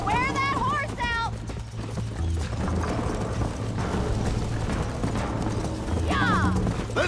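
Hooves clop along in a steady galloping rhythm under loud game music and sound effects, with brief bursts of action noise, from a horse in the video game Red Dead Redemption.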